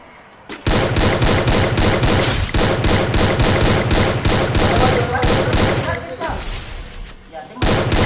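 Gunfire rings out in a dense, continuous barrage of loud, rapid shots, close and overwhelming, with a brief lull before it resumes; voices can be heard faintly underneath.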